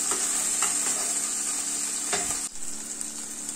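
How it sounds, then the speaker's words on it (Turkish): Onions, mushrooms and peppers sautéing in a pot for a mushroom chicken stew, a steady bright sizzle broken by a few scraping stirs, close and continuous with no talking. "Kavurmaya başlıyorum."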